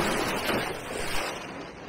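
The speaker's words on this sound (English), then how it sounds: "use a wave splashing over the rocks as the foreground" Waves wash and splash continuously over rocks at Hook Head Lighthouse, a broad steady rush of surf breaking close by with a slight swell midway, no voices.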